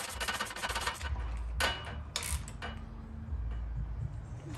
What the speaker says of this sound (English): I'm just gonna put the nylon lock nut on there and secure it